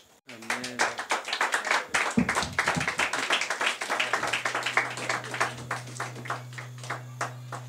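A church congregation clapping together in a steady rhythmic beat, loud and close, continuing for several seconds with a low sustained organ-like tone underneath.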